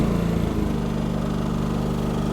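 A Firman WH3200iE dual fuel generator's engine catches and settles into a steady, close, buzzing drone with a regular low pulse that continues alone.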